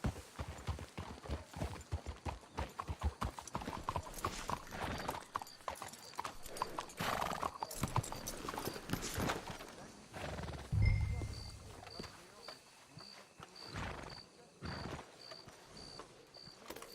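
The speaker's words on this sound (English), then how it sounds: "Let's hitch the horses up ahead." Horses clip-clopping in Red Dead Redemption 2, a steady run of hoofbeats over rough ground with game ambience, then slowing and settling, followed by sparse movement sounds and a faint repeating tone.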